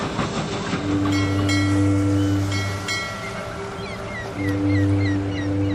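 A train passes close by, loud and steady, with rumbling wagons and clickety-clack rail noise. Long horn-like blasts sound at the start and again near the end.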